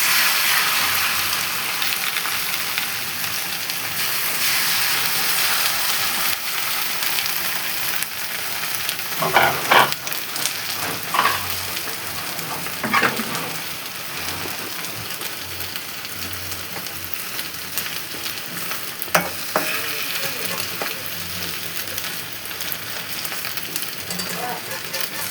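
Egg and chips frying in a pan for chips mayai, a steady crackling sizzle throughout with occasional stirring scrapes, heard alone without talk.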